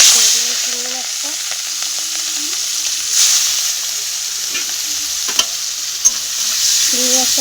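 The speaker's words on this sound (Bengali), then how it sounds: "চিংড়ি মাছটাকে হালকা করে ভেজে নেব" Shrimp fry in oil in a pan for chingri kochur loti, giving a loud, continuous close-up sizzle with brief stirring knocks and a voice talking faintly in the background.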